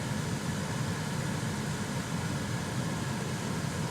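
A freshly cleaned car AC blower motor runs steadily, pushing cold air out of the vents with an even, broadband whoosh and a low hum. The sound is continuous and close, with no talking.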